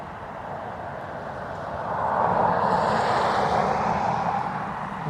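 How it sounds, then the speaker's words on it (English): Aer Lingus Airbus A320 jet lining up on the runway at a windy Dublin Airport, its engine roar swelling midway and holding loud, broad and continuous to the end, with no voices. "we have Aer Lingus A320 EIDH lining up to go to Nantes"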